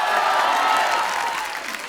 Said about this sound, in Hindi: पहले तो इनके लिए जोरदार तालियां बनती